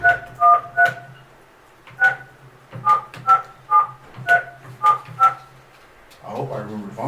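Touch-tone keypad beeps as a phone number is dialed for a prank call: about a dozen short, evenly spaced dual-tone beeps, fairly loud and close, followed by a voice starting to talk.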